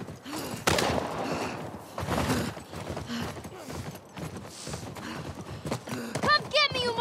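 A horse gallops with rapid clip-clop hoofbeats in the PS5 remake of The Last of Us, mixed with gunfire, shouting voices and a whinny near the end.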